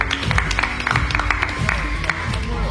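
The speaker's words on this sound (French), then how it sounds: "On va applaudir." A small group claps unevenly at the Jump City trampoline park in Calais, a loose, scattered patter of hands close by over a busy, boomy indoor background with some voices.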